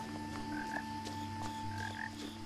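A small frog croaking in the video game What Remains of Edith Finch, short repeated croaks in pairs over a quiet ambient hum and tonal background, with no voices.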